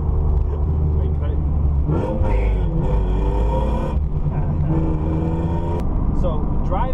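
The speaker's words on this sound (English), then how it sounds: "So, driving the BMW E36 M3, it's a joy to drive, to say the least." A BMW E36 M3 with a Dinan exhaust drives along, heard from inside with a loud, low engine drone that rises and falls as it revs through the gears, while someone talks over it.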